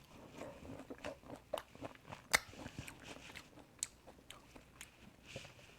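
Someone eats hallabong citrus fruit up close, with soft crisp bites and wet chewing crunches in an irregular rhythm, quiet and without talk.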